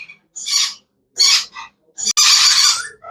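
Young lory parrot chicks give harsh, raspy calls in three short bursts separated by silence, close and loud, the last burst longest.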